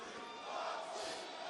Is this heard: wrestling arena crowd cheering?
yes